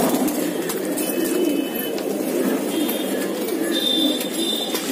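Pigeons coo softly and continuously in a loft in Mumbai, India, a low, throaty murmur, with faint chirps and rustling in the background.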